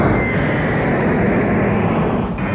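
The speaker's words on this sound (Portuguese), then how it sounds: "Quem vive perto do aeroporto de Congonhas precisa suportar o movimento intenso de aviões" A low-flying airplane roars loudly and steadily overhead near Congonhas airport in São Paulo, a dense, continuous engine rumble filling the whole moment with no pause.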